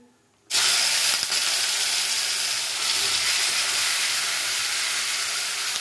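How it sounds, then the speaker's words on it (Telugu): Marinated chicken coated in chicken masala, turmeric, chilli powder, salt and lemon fries in a pan, starting after a brief quiet with a sudden loud, dense sizzle that holds steady and close. "ఇది బాగా ఫ్రై చేసుకోవాలండి."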